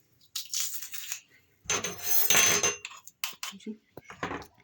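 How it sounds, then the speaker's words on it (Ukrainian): Garlic dill sauce of mayonnaise, fresh dill and pressed garlic stirred for shawarma, heard as scraping and clinking of a utensil against a bowl in several short close bursts. "І перемішую це все до однорідності."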